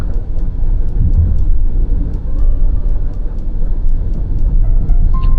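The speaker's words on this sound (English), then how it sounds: "Last acceleration, 290 Newton meters of torque." Chery Tiggo 7 Pro SUV accelerating with 290 Nm of torque, a steady low engine drone and road rumble from inside the cabin, continuous and fairly loud with no talk.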